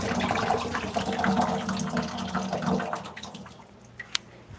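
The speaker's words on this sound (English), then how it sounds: "make sure that these are clear of any of the extra little baking soda and vinegar. And just take it and strain it" Water runs and splashes as strawberries are rinsed and strained of baking soda and vinegar, a steady close pour that thins out to a few drips at the end.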